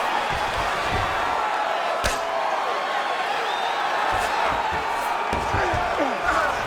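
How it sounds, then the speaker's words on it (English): A virtual arena crowd roars during a UFC 5 fight as the fighters get back to their feet, a dense, continuous cheer with a sharp thud near the start and commentary talking over it. "huge pop from the crowd as the fighters get back up to their feet"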